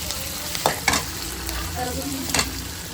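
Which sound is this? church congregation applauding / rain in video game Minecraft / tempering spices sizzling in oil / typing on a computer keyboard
tempering spices sizzling in oil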